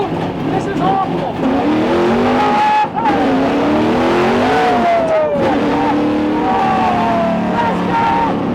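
A NASCAR race car rumbles through a residential neighborhood, its engine note climbing and dropping in repeated uneven revs, loud and close from inside the car, with voices talking over it.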